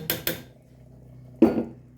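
A metal spoon stirring zucchini spread clanks twice against a pot, then a pause before one more louder scrape and knock; close by, no talking.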